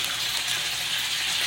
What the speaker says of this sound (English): Lots of water movement in there.